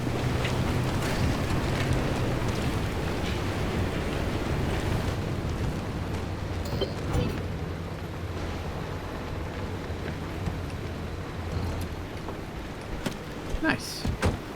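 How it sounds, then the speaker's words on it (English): Steady broadband wind roar of a worsening storm in the video game Pacific Drive, loud and continuous throughout with a low engine-like hum beneath and a few sharp knocks near the end. "we should probably do that before this storm gets any worse, because it's getting a little bit windy out here"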